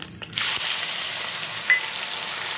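Prawns fry in hot oil in a wok on a gas stove, giving a loud, steady hiss of bubbling oil that swells up quickly after a brief quieter start and then holds evenly throughout.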